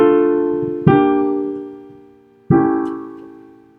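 Two sustained chords of a progression, the soprano G held into a V7 chord, each struck clearly and decaying slowly, with no voices.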